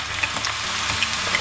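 Potato pieces for a Spanish tortilla frying in oil at about 120 °C over medium heat make a steady close crackling sizzle with small scattered pops, and no talking.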